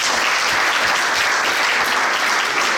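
An assembly at a swearing-in ceremony in Ecublens applauds to elect a commission by acclamation, a loud, even burst of clapping sustained throughout.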